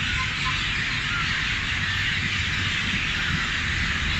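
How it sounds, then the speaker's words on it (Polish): A dense, continuous wash of hundreds of birds chirping at once in trees in Kandy, Sri Lanka, steady and loud throughout, with a low background rumble underneath and no talking. "Taki dźwięk, setek ptaków mam wrażenie."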